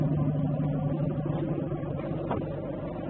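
A 2010 Ford Mustang GT with dual exhaust and a 5-speed idles with a deep, steady low rumble, loud and close, easing slightly toward the end.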